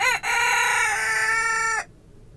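A chicken lets out one loud, drawn-out crowing call lasting under two seconds, close to the microphone, then falls quiet on a cold snowy day.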